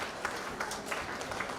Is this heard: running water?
no